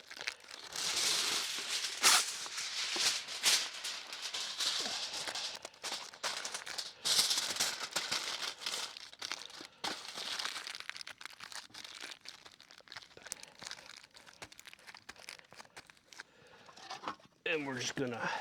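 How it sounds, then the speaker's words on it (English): Aluminum foil folded into a package at a primitive truck campsite, loud close crinkling and crumpling in irregular bursts throughout, with a few sharper tearing crackles near the end. "as best we can, fold up this foil package"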